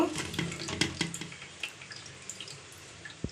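Fish roe batter mixed with ginger, onion, garlic and spices is stirred in a bowl, producing soft, wet, irregular squelches and taps that fade to quieter scraping.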